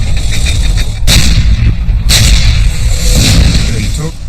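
Tank artillery fire under heavy bombardment, with two sharp booming blasts about a second apart rising over a loud continuous rumble of battle, with a voice talking through it.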